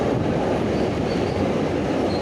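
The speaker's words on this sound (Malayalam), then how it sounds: "ട്രെയിൻ ഇപ്പോൾ പെരുമൺപാലം കടക്കുകയാണ്." Continuous loud, heavy rumble of a train crossing the Perumon bridge between Kollam and Kayamkulam in Kerala, heard close from on board, with no voices.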